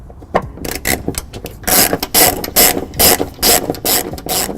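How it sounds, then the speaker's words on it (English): A ratchet wrench with a 10mm socket loosens the bolts holding a trunk pan on a 2013 Honda CR-V, making close, sharp bursts of rapid clicking that repeat in short strokes with brief gaps between them. "we're going to be using a 10mm socket to lower them down"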